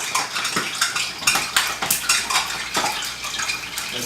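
Salted water poured off plantains in a kitchen while cooking tostones, with a steady rush of splashing water and metallic clatter of a pot or colander, loud and continuous with no talking.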